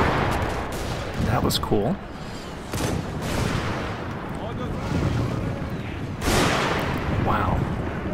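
Missiles launching and exploding in Steam & Steel: Total War, a dense barrage of booming blasts and roaring whooshes that keeps going throughout with louder bursts, while someone speaks briefly over it.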